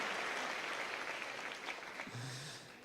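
A church congregation applauds during a sermon, a dense wash of clapping that is moderately loud and fades slightly toward the end, with a brief voice near the close.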